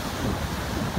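Rough, stormy sea churns on a rainy morning at the beach, a dense continuous roar of surf mixed with wind buffeting, with no voices.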